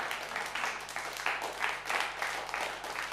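Audience applause welcoming a devotional Krishna dance at a high school and junior college annual function, a steady wash of clapping at moderate level that swells and eases throughout.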